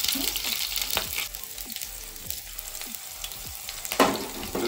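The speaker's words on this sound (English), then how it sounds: "So let it pop, then you can add in the cut chili and onion." Cut chili hitting hot oil in a pan for a ridge gourd curry crackles and sizzles steadily, with sharper pops and spatters scattered throughout and a louder burst near the end; no one speaks.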